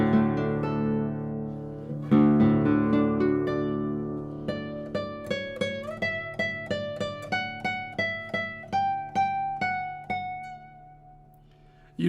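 A Spanish classical guitar with new strings rings out in slow strummed chords, then a run of single plucked notes on a bubbly, round-toned first string, close and clear with no talking.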